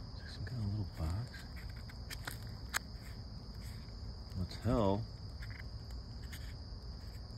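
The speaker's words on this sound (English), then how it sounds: "I'm hearing the mosquitoes." A steady, high-pitched buzz of mosquitoes in the woods hums throughout, with a short spoken exclamation and a couple of faint rustles.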